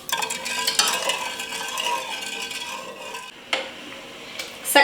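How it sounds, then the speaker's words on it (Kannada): A spoon stirs sugar and water syrup in a pan as it boils, giving soft scraping and clinking strokes over a low bubbling hiss, close and fairly quiet. "ಈಗ ಸಕ್ಕರೆ ಕರಗೋವರೆಗೂ ಇದನ್ನು ಮಿಕ್ಸ್ ಮಾಡ್ತಾ ಕುದಿಸ್ಕೋಬೇಕು."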